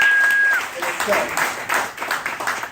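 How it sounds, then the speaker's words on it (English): An audience at a political campaign kick-off rally in Nassau breaks into applause, a steady wash of clapping with a voice briefly heard over it at the start. "I think that deserves a round of applause in itself"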